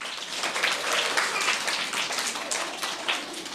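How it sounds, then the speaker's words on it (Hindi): A school gathering claps for schoolchildren in a short, lively round of applause, many hands slapping closely together without any talk. "जरा तालियां इनके लिए।"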